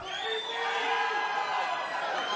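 A crowd cheers and whoops at a boxing weigh-in in San Antonio, a sustained wash of shouting voices heard at moderate distance, fairly faint and continuous throughout.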